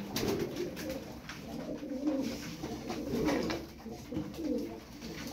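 Fancy game pigeons, milk-white birds bought at auctions, coo softly and repeatedly at close range in a low, rolling rhythm with no talk.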